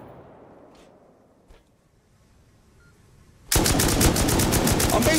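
Rapid automatic gunfire in the video game Rust during an oil rig raid, bursting in loud and close after a quiet stretch with faint thuds and continuing as a dense, steady stream of shots.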